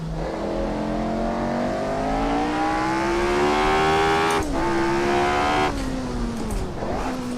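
A Lotus 25 race car in Assetto Corsa revs hard at Brands Hatch, its engine note climbing steadily through the gear, then dropping sharply with brief dips at shifts, loud and close throughout.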